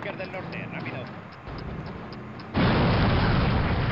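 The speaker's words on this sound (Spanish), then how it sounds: "Oh. Terrible explosión." An explosion in the video game Call of Duty erupts partway through as a sudden loud broadband roar that holds steady to the end, following a stretch of busy battle noise with faint voices.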